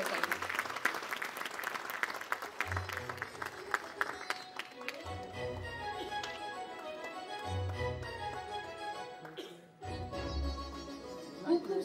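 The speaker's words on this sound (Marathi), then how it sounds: "जोरदार टाळ्या त्यांच्यासाठी." Sustained audience applause greets the managing director and CEO of Sony Pictures Networks India at a Marathi television show launch event, with music and stage sound running underneath throughout.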